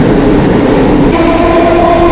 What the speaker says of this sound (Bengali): এই হচ্ছে লোকাল ট্রেন।